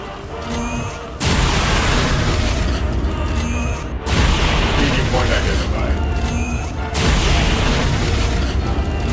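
A soldier in the modded XCOM 2: War of the Chosen game fires a pistol once at every visible enemy: two loud, sustained bursts of booming blasts and crashing impacts, separated by a brief mechanical pause.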